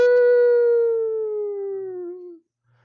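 A single voice imitates a warning siren, a long tonal wail that slowly slides downward and fades out after about two seconds.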